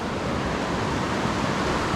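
Chattooga River at Burrell's Ford, a steady, full rushing roar of flowing water, close and continuous with no other sounds.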